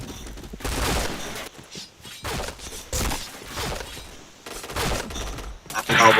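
Video game gunfire rattles out in loud, rapid bursts, several sustained volleys separated by brief pauses, with a sharper burst at the very end.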